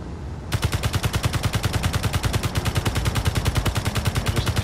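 Automatic gunfire in the Space Engineers video game: after a short pause, a long rapid burst of evenly spaced shots fires continuously, loud and close, with no talking.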